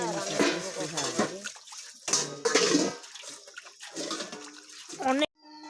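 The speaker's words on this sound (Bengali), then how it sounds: "দেখো বাসন করে মেজে নেই" Running water splashes while dishes are washed in a home kitchen, the flow rising and falling in bursts as someone talks over it.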